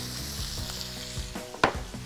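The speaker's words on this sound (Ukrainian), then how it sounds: "Тепер гарненько ось так все смажимо" Chicken and mushroom pieces frying in oil, seasoned with salt and pepper, give a steady close sizzle with a few stirring scrapes and one sharp clack near the end.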